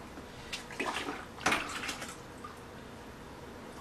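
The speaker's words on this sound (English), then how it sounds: "I can run cold water from the sink into it" Cold water runs briefly from a sink tap while beer-brewing equipment is being sanitized, splashing softly for about a second and a half before fading into quiet room tone.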